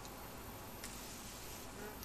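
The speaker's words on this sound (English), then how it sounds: "the bees are actually getting a bit more feisty in reaction to the spray" A dense, steady buzz of a small bee colony, agitated after being sprayed, fills the air, close and continuous, with no talking.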